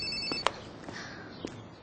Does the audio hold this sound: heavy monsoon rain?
no